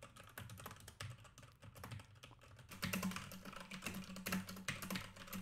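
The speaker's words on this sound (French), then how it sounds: "un test de frappe au clavier permet de tester la résistance au bruit hors axe de celui-ci." Keyboard typing for a USB microphone test, picked up off-axis on a Presonus Revelator: a quiet, rapid clatter of keystrokes that grows denser and a little louder partway through, alone with no talking.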